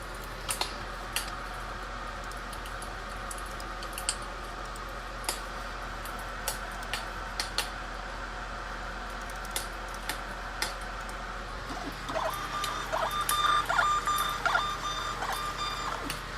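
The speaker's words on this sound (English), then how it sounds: "I don't know if you guys heard the label printer right there" A label printer runs through a batch of labels at an Amazon FBA packing station: a steady mechanical whir marked by sharp ticks, turning into a busier buzzing feed near the end.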